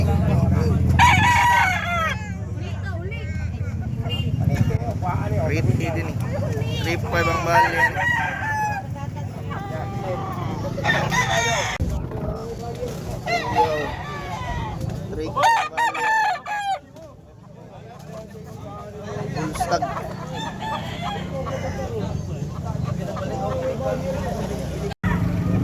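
Roosters crowing repeatedly and hens clucking amid a busy Manok Expo at Carbon Public Market, with overlapping birds near and far under steady crowd chatter and people talking throughout.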